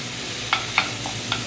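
Bacon sizzles in a hot pot on a wood heater, an even hiss under a few quick scraping clicks from a utensil.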